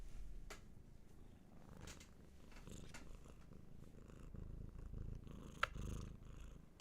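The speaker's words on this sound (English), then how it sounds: "Even when I'm picking you up, you're purring." A domestic cat purrs steadily and continuously while being picked up and held, a close, soft, low rumbling purr with a brief light knock partway through and no talking.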